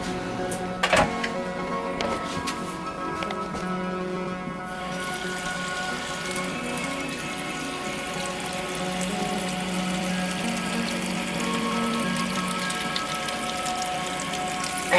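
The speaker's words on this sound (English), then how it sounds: "And then run it under some cold water." Cold tap water runs steadily over a cooked Dungeness crab in a kitchen sink, a continuous close splashing hiss lasting throughout, with a few clunks near the start and no talking.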